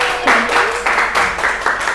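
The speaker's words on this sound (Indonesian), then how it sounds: "Oke, betul sekali, tepuk tangan buat Mbak Azizah." Short bursts of classroom applause for a student, a few quick rounds of clapping close by, with a teacher's voice speaking between them.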